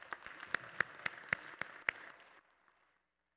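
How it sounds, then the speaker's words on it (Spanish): A small audience at a cancer research debate in Mexico gives a doctor sparse applause, a handful of distinct claps with thin clapping between that fades out after about two seconds, leaving near silence. "Un aplauso para el doctor Daneri"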